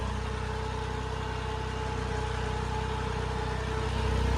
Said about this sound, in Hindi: इसका इंजन जो है बहुत ज़्यादा हैवी ड्यूटी है भाई